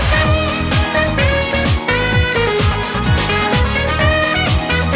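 A Persona 4 game track resampled to 11,025 Hz plays with a dull, muffled lo-fi quality, its highs cut off while the steady drum beat and synth lines continue.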